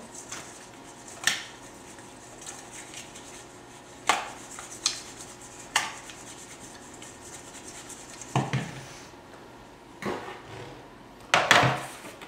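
Chicken seasoned with cracked pepper and salt is mixed with oil in a bowl, giving intermittent clinks and scraping rubs at an irregular pace, moderately close, with no talking.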